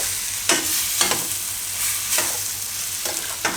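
Besan bhurji mixture stirred in a pan, with a soft sizzle underneath and regular scraping strokes of the spoon, about one every half second, close and clear.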